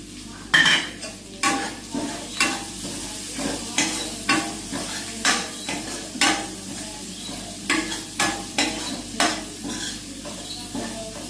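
Dried red chillies and onion frying in a pan: a steady sizzle under repeated rhythmic scrapes and clanks of a spoon stirring against the metal, continuing throughout.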